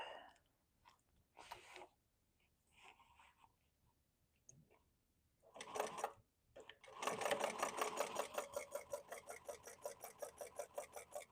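A sewing machine topstitches a tote bag with a shaker pocket, starting after a few seconds of quiet handling and rustling, then running steadily and close with a fast, even rhythmic chatter until the end.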